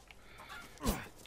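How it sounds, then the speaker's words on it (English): A single chicken in Resident Evil Village lets out one brief, moderately loud cluck partway through, over quiet background game ambience. "Come here, chicken."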